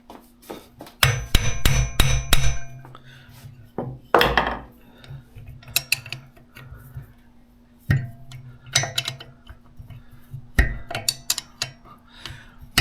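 A hand whacker strikes metal on an old Aermacchi motorcycle in sharp, close hits, some in quick bursts of several blows and others single, with quiet gaps between.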